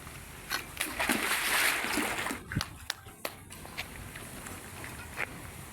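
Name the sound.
CLC construction blocks dunked in water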